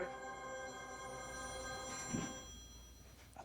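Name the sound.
mobile phone ringing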